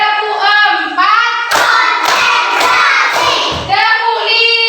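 A school class in Banda Aceh performs a rhythmic spirit clap: children chant together in unison, then a run of sharp, evenly spaced group claps bursts in, and the chanting voices return at the end.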